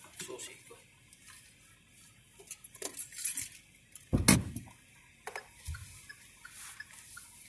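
A set of keys jangling close by, heard as a few short, bright metallic clinks in scattered bursts, with one sharper rattle in the middle against a quiet background.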